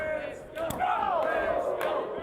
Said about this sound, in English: The crowd loving what they're seeing.